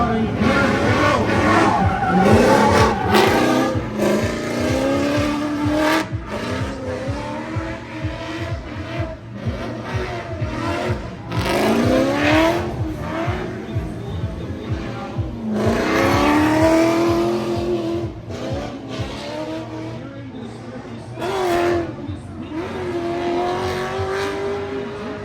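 Drift cars at an event, engines revving and rising in pitch as tires squeal through long slides, loud and continuous with repeated acceleration sweeps, and a crowd and announcer faintly beneath.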